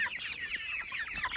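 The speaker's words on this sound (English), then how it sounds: "That one is a rooster." Hens and a rooster clucking in a farmyard flock, a busy, continuous chorus of short, overlapping calls at close range with no talking.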